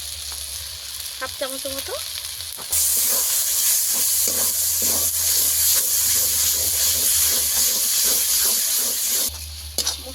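Spices and chilies sauté loudly in a pan for a spiced chicken-skin dish, giving a strong, steady sizzle and hiss that starts abruptly after a brief spoken phrase and runs unbroken for several seconds.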